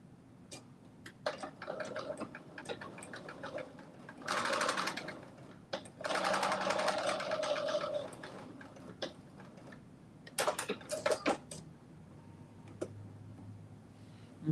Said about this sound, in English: And then I'm going to do that top stitch.